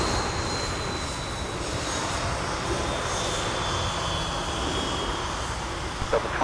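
An airliner takes off from runway 30 right at MSP airport on a freezing winter day, its engines a loud, steady roar with a faint rising whine above.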